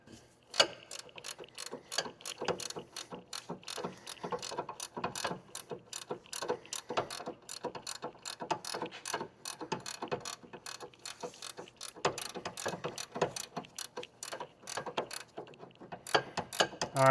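Ratchet wrench turning a nut on the sway bar link of a 2007-2016 Honda CR-V, a steady stream of rapid clicking pawl strokes at close range continuing throughout.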